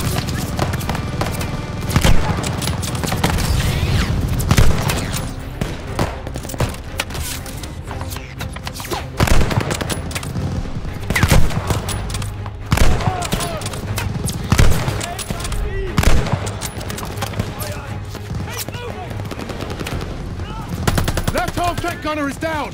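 Dense battlefield gunfire in Call of Duty Vanguard during Operation Tonga at Merville, France, with sustained machine-gun bursts and rifle shots crackling nonstop, loud and close, under shouted voices throughout.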